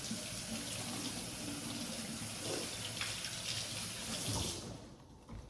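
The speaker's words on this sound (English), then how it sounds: "I'm going to run this under cold water really quickly" Cold tap water runs steadily over a cut onion in a kitchen sink, a continuous close splashing stream that cuts off near the end.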